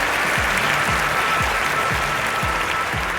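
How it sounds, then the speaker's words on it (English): A stadium crowd in a London 2012 Olympics video game applauds steadily and loudly, with a dense, unbroken clapping texture throughout. "The crowd really starting to build and get behind them now"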